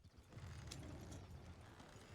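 Horse hooves clip-clop faintly in a Red Dead roleplay video game, a soft, low, steady patter of steps with no talk.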